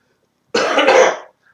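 A single loud, harsh cough from a person getting over a slight cold, close to the mic and about three quarters of a second long, with silence before and after.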